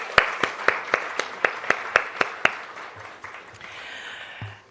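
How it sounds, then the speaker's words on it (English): Audience at a diaspora conference launch event clapping in a steady, evenly spaced run of about ten sharp claps that thins out and fades after a few seconds. "A round of applause for them,"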